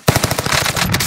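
Short rapid burst of automatic gunfire in the video game Warzone, a tight string of loud, close shots over about a second.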